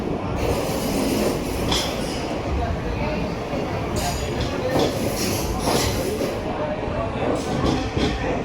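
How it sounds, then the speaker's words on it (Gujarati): A passenger train pulls out of Rajkot junction, steady rolling rumble and rattling wheels with occasional squeals, heard from on board with people talking nearby. "રાજકોટથી ટ્રેન ઉપડી ગઈ છે એકદમ ટાઈમે 11:20."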